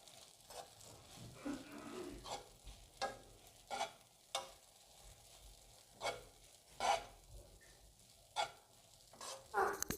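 A vegetarian dish with a spoonful of lemon juice being mixed in a pan, heard as faint, regular scraping strokes of a spoon about once a second over a low sizzle, with no talking.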